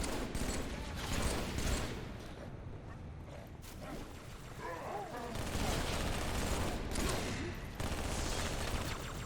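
Battle rifle gunfire against Brutes in Halo 3, rapid bursts of shots mixed with explosions and combat noise, with voices talking intermittently over the fighting.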